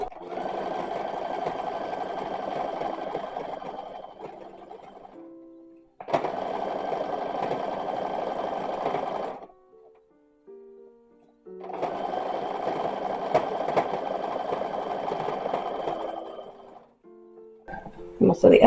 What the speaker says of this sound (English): So what I'm doing right now is just sewing the skirt to the bodice.